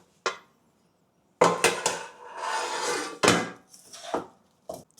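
Prawns are tossed with fried cereal in a pan, giving several bursts of close scraping and rustling stirring with spatula knocks between stretches of silence.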